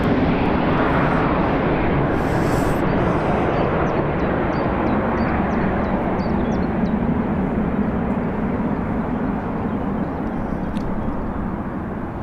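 A jet airliner passes close by at Birmingham Airport, its heavy engine roar loud and continuous before slowly easing off toward the end, with no talking.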